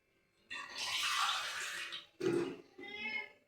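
Water is poured into a rice flour mixture during mixing, giving three short, quiet bursts of splashing and trickling separated by brief pauses.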